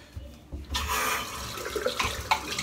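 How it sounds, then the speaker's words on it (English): Tap water runs into a sink while a shaving brush with a synthetic silk-type knot is rinsed of leftover soap, a steady close splashing rush that starts after a brief quiet moment and carries on with small surges. "I'm just rinsing out some of the silk"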